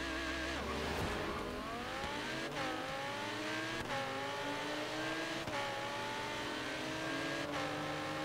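Racing car engines in the Forza Horizon 3 video game, with a Ferrari FF among the cars, rev hard and loud, climbing through repeated gear changes with short dips between each upshift, continuous and close with no talking.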